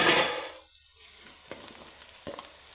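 Onion masala for aloo baingan frying in a pan, a bright sizzle that flares loudly at first, then settles into softer crackling with a few stirring scrapes.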